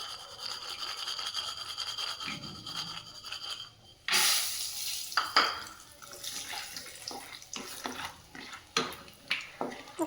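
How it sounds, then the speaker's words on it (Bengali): Peanuts frying in hot oil over lowered flame, a crackling, sputtering sizzle with irregular sharp pops and stirring clatter, louder bursts after a brief lull midway, no voices. "এগুলো এভাবে এইভাবে আওয়াজ আসবে ফটফট করে"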